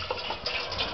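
Water pours steadily into a steam canner, a continuous close gushing splash lasting about a second.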